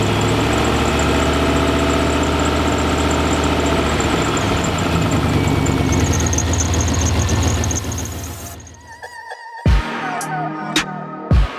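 A car engine runs loud and steady at idle with a rough, throbbing rumble before it cuts off near the end, followed by a few sharp clicks and knocks.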